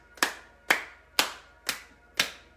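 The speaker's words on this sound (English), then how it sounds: "We're going to clap 9 times." During a qigong session, a single person claps their hands in a steady, evenly spaced rhythm; five crisp, close claps ring out alone with no talking.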